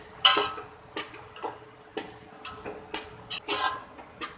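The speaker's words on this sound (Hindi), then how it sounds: "अगेन इसकी भुनाई करेंगे चनों की" Boiled chickpeas are roasted in a pot for kishmish chana pulao, as a spoon scrapes and clinks against the pot in regular strokes about every half second, quiet and close, over a soft sizzle.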